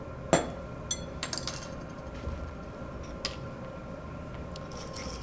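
A spoon stirs salt into ice water in a glass, giving scattered light clinks and taps, the first one louder, over a low background hum with no talking.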